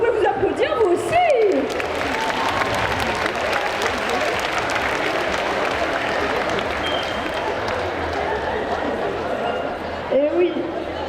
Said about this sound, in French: vous pouvez vous applaudir vous aussi